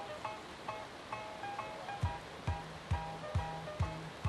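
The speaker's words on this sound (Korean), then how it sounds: "폭포수가 흐르는 강 한편." Waterfall pouring into a river in Kandovan, a snowy cave village in Iran: a faint, steady watery rush with soft rhythmic thuds and a few tonal hums, heard from a distance with no voices.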